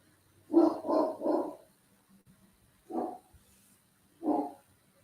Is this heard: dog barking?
yes